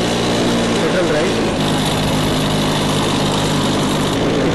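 The petrol engine of a hybrid car running close by, a steady buzzing idle with a constant rough texture that fills the whole stretch at fairly high level.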